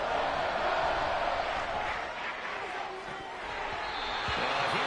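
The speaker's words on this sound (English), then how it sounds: "the crowd getting into it as we come up on a big 3rd down" A stadium crowd roars steadily at an American football game between the Lions and Bears as a big third down approaches, a broad sustained wash of cheering noise that holds loud throughout with a slight dip midway.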